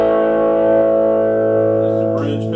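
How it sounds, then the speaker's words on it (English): A bridge-pickup overdrive tone rings from a 2018 Fender Mexican Player Telecaster with all controls wide open: a sustained, gritty chord that decays slowly, with faint noise near the end. "let's get a few overdrive tones."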